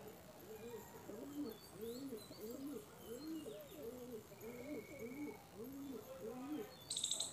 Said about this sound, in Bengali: এ হচ্ছে নর পায়রা।